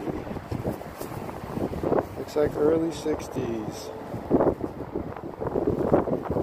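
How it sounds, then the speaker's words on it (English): Strong wind blowing outdoors at a 1950s school site, roaring across the microphone in loud gusts throughout while someone speaks over it. "It's brutally windy out."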